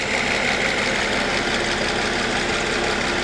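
A 1994 Mercedes SL600 V12 idles roughly after a wiring harness replacement, giving a loud, steady, close-up engine drone with dense rumble and no voices.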